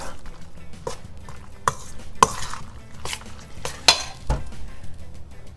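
A spoon stirs mac and cheese with bacon bits mixed in, giving scattered scraping clinks and soft knocks against the pot at an irregular pace, close and moderately loud with no talking.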